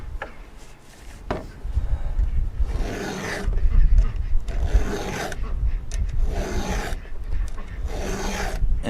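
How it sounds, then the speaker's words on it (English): A hand file rasps across chainsaw teeth in repeated scraping strokes, close and fairly loud, with a short pause between each pass. "I'm sharpening only the ones that are this angle, that are this direction."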